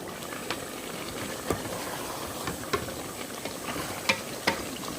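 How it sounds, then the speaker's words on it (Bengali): Chicken boiling in water inside a covered rice cooker, a steady close bubbling hiss with occasional small pops and ticks throughout. "ঢাকনা দিয়ে রাখতে রাখতে এতে জলটাও শুকোচ্ছে আর তার সাথে চিকেনটা সেদ্ধও হয়ে যাচ্ছে।"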